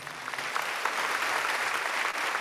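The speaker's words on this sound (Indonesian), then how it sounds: "Berikan tepuk tangan." Applause from a church congregation fills a worship service, a dense, steady wash of many hands clapping at moderate volume throughout, with no clear voices standing out.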